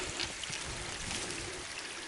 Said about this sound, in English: it's got a nice little stream going down here